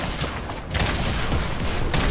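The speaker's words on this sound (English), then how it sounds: "Oh, now they're shooting grenades." Grenades fired during a Fortnite match give a dense burst of loud blasts and crackling explosions, packed close together over roughly two seconds.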